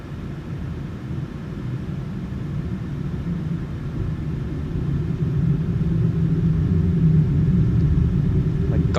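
An airliner starts its takeoff roll in Microsoft Flight Simulator 2020 after the brakes are released, with a loud, steady low engine roar that slowly swells.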